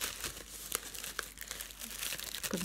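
Recyclable paper wrapping around a deodorant crinkles and rustles up close in a steady stream of crisp crackles, with a few sharper crunches along the way.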